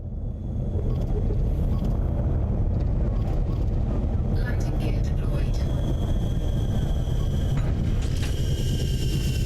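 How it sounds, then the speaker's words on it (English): Cobra Mk V landing gear deploying in Elite Dangerous gives a loud, continuous mechanical whir and creak over a deep ship rumble, with brief clunks midway. "So we're going to deploy our landing gear."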